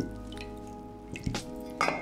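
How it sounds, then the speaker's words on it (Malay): Rinsed wet yellow egg noodles drain in a colander, with close trickling and dripping water and a couple of brief louder splashes, no talk. "Mi kuning ni kita bilas dengan air je untuk hilang rasa kapur."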